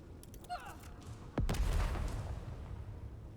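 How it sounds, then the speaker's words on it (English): A single sharp grenade blast from the Necromunda: Underhive Wars video game hits hard after a short lead-in of faint clicks and chirps, then trails off into a rolling, rumbling decay. "I will continue tossing grenades at you"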